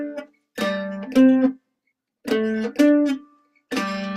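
A dulcimer plays a Brazilian samba vamp, three short bursts of plucked, ringing chords with clear gaps between them, each phrase repeating the same syncopated pattern up close with no voices.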